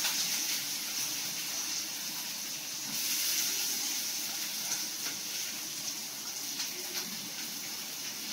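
Chopped onion and green chili hitting hot oil with cumin for shev bhaji, a steady hissing sizzle that swells briefly and then settles into a constant moderate frying hiss, no talking.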